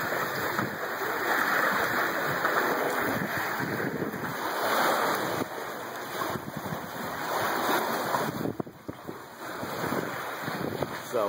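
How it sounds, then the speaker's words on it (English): Water rushing past the hull of a moving catamaran at sea, a steady broad wash with wind buffeting the microphone throughout, no voices. "Just watching the water go by."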